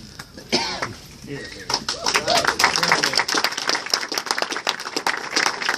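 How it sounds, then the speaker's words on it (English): A crowd at a political primary eve event in Manchester, New Hampshire breaks into applause after a voice and a cough, the clapping building from scattered claps to a dense, loud patter. "Applause, please."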